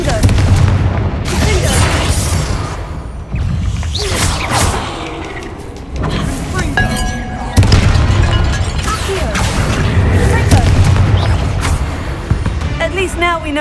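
A Confringo blast spell goes off in the video game Hogwarts Legacy, landing as several loud booming bursts with whooshes over a continuous dense game soundscape, and a voice speaks through it.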